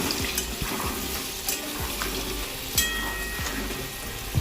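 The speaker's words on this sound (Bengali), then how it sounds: "এটা ভাজতে থাক" Ingredients for homemade mutton biryani, potatoes with a little turmeric, frying steadily in a pan with a constant sizzle, occasional stirring knocks and a faint watery sound, no talking.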